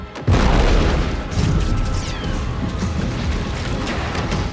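A film explosion sound effect as a room is torn apart: a sudden deep boom hits after a brief quiet start, then a sustained rumble of crashing debris and rolling roar carries on at high loudness.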